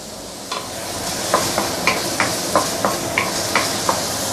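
Chopped tomato with spices sautéing for a tilapia fish curry: a steady close sizzle with regular scraping strokes of a spoon stirring the pan about every third of a second.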